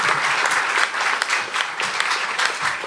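A crowd applauds the team managers at the 2024 SuperMotocross Round 1 pre-race press conference in Anaheim, with steady, dense clapping filling the room throughout.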